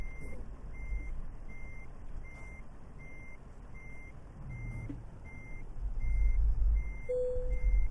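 A truck in American Truck Simulator backs up slowly, its reversing alarm beeping steadily about twice a second over a low diesel engine rumble that swells toward the end, with a brief air hiss.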